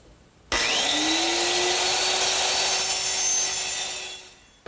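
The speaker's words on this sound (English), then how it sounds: "to trim the ends of both the seat and all the cross members, I'm just going to use my little lightweight circular saw" A small lightweight circular saw trims the ends of wooden seat and cross members for a settle, a loud, close, steady high whine lasting about four seconds before winding down.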